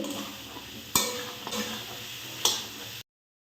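Poppy seed paste is stirred into aloo posto in a pan, a soft sizzle under a few sharp spoon clicks against the metal, close and sparse before cutting to silence.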